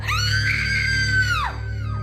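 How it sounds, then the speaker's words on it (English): A terrified girl screams in horror, one long, loud, high shriek that holds steady and then falls away near the end, over a low steady hum. "A terrified Lucy screams in horror."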